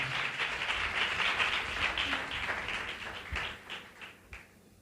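A church congregation breaks into loud, dense applause that holds steady for a few seconds and then thins out into a few scattered claps.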